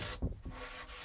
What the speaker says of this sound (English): that's all the excess lacquer and the stripper coming off onto the wire wool